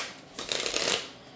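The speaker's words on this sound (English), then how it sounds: "let's give that a shuffle again. I don't know if this is the right deck to use" A deck of tarot cards is shuffled in a quick, papery riffle lasting about a second, close and fairly soft, with no voices.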